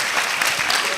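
A crowd applauds at the Success Africa Summit at UHAS, a dense, continuous wash of clapping hands throughout the brief moment.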